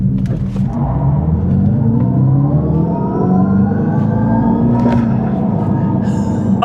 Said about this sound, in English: Let's try launch control. Hold brake and throttle.